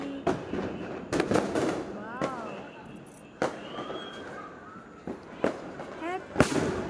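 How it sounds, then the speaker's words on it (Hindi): Sharp Diwali firecracker bangs pop at irregular intervals, some near and loud, others distant, while whistling rockets rise and people talk in the background. "पटाखा बज रहा है या बॉम्ब?"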